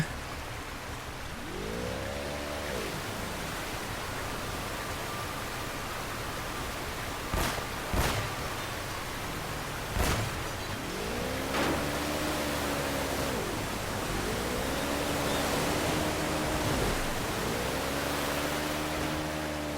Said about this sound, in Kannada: ಇಲ್ಲಿ ನೋಡಿ ಎಷ್ಟು ಫೋರ್ಸ್ ಇದೆ ನೀರು